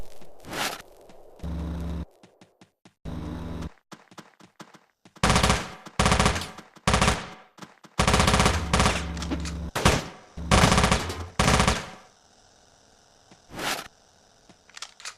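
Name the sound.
nailgun firing in video game Teleglitch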